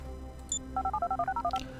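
Mobile phone dialing in GTA 5: a short beep, then a quick run of about a dozen evenly spaced keypad tones, close and clear over faint game background noise.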